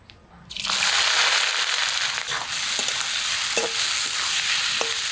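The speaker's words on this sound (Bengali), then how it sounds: "এখন পেঁয়াজগুলো কড়াইতে দিই" Onions hit hot oil in a wok and fry with a loud, steady sizzle, with stirring scrapes and crackles over it, while chicken biryani is being cooked.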